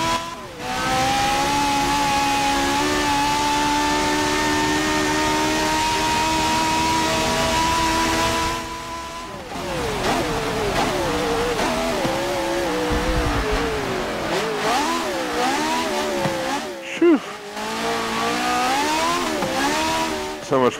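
Virtual race car engine in Forza Motorsport 7, driven on a wet track with traction and stability aids off, holds a steady high rev before dropping and wavering through shifting revs and throttle changes, with brief speech over it.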